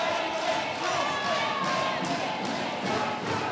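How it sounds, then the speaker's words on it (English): Crowd at a Cage Warriors MMA event in Swansea backing the hometown fighter, a sustained, swelling roar of cheers with rhythmic surges, and a commentator-like voice faintly running underneath. "the crowd here at the LC in Swansea getting behind the hometown fighter, Martin McDonough"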